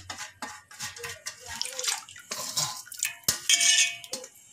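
Washed dal lentils tipped into a pot of water for kuzhambu, splashing and sloshing with clinks of metal vessels, close and uneven, loudest toward the end.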